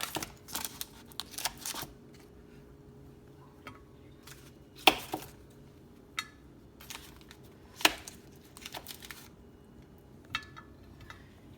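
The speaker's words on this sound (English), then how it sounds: "cut up at least 3 chunks of butter into it" Butter being cut into chunks in a baking dish, heard as a few sharp, scattered knife taps and clicks against the dish amid quiet room tone, with two louder isolated strikes.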